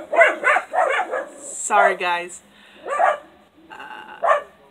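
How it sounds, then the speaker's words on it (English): Several dogs barking excitedly after a truck passed, a burst of close, loud barks and yips in quick succession with short pauses between, and someone briefly speaking over them. "Truck drove by and now my dogs are going nuts."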